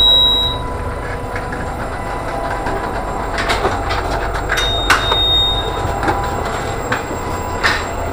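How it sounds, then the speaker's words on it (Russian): Interior of a moving train near the button-operated door between cars, with a continuous rumble of wheels on rails, faint metallic squeals and a few sharp clicks and clatters over the steady roar. "А здесь это самая дверь между вагонами. Открывается по нажатию на кнопку."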